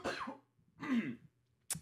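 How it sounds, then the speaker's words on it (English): One person on a podcast coughs twice, each a short, close, rough burst, followed by a brief sharp throat sound at the end. "if you're listening to this pod and you hear me coughing"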